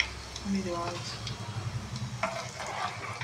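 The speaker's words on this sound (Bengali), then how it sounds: "আমি সরষের তেলের মধ্যে কালো জিরে আর মেথিটা দিয়ে দিলাম।" Black cumin and fenugreek seeds sizzle in hot mustard oil in a pan, a steady soft frying hiss with stirring clinks and a person talking throughout.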